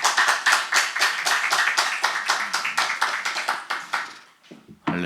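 A church congregation at a Wednesday service claps in unison to welcome a missionary, loud regular beats in a quick steady rhythm that fade out before a single voice speaks.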